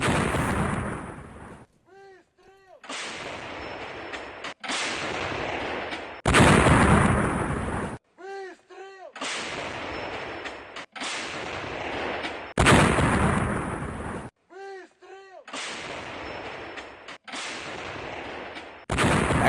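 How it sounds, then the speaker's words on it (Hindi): A 152 mm Giatsint-B howitzer firing on Ukrainian soldiers in Kursk, with loud booming blasts repeating every few seconds, separated by short tonal ringing sounds. "कुर्स्क में यूक्रेनी सैनिकों पर होवित्सर तोप से हमला हुआ है।"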